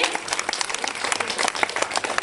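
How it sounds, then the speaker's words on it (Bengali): Audience clapping fills the room in a dense, steady burst of many hands after a stage performance, continuing without a break and with no talk over it. "একটা জোরে হাততালি সুলগ্নার জন্য"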